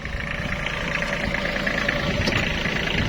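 A three-cylinder diesel tractor engine idles steadily at close range, a continuous low rumble with a slight knocking throb and no voices.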